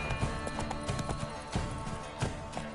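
Roach the horse trotting in The Witcher 3, a steady rhythmic clip-clop of hooves over game music and ambient sound, moderately loud and continuous.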